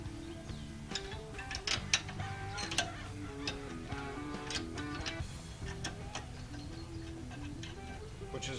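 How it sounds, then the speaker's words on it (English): A pry bar and mallet push back the rear Brembo brake caliper pistons on a 2011 Camaro SS with a 6.2L V8. The result is a dense stream of close metallic clicking, ticking and scraping, with no talking. "Just pry the piston down."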